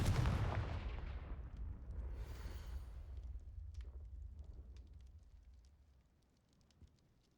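A Confringo blast explodes in the Hogwarts Legacy video game with a loud, deep boom that rolls away into a long fading rumble, with no voice over it.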